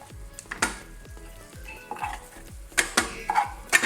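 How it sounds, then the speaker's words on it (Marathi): Green chillies cooking and being crushed on a hot tawa griddle, with a soft sizzle under repeated scraping and tapping strokes of a utensil, close by and irregular, no talking. "तव्यावरतीच मिरच्या शिजवून घेतोय।"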